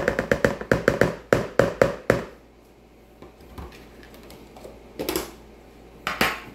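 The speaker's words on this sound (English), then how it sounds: "I'm going to stir that up" A spoon stirring cream cheese into spinach artichoke dip makes a quick run of sharp clinks and taps against the bowl, then goes quiet apart from two later scraping knocks.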